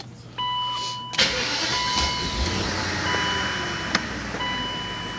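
A BMW 740iL V8, just repaired for low oil pressure, cranks and fires up, then settles into a smooth, fairly quiet idle, with a steady warning chime tone repeating in the background and a few sharp clicks.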